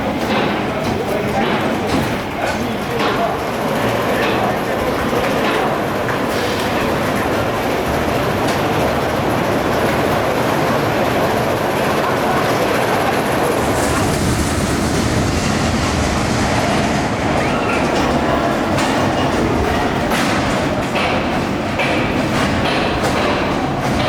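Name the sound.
Mack Rides Bobbahn bobsleigh roller coaster running at Heide Park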